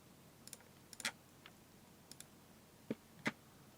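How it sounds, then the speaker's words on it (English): Computer keyboard keys clicked in a quiet room, a sparse irregular scatter of faint taps with a couple of slightly louder clicks, no talking. "I'm playing with the computer keyboard."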